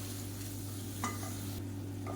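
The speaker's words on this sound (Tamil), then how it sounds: "இப்போ மசாலா எல்லாமே நல்லா வதங்கிருச்சு" A masala of tomato sautés in a pan with a faint, steady sizzle, and a spoon or spatula scrapes and stirs it briefly partway through. The sound is quiet and there is no talk.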